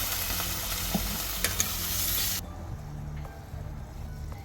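Vegetables frying in a pan for a Bengali fish curry, a steady close sizzle with occasional stirring scrapes, the hiss loud at first and then dropping to a quieter bubbling simmer.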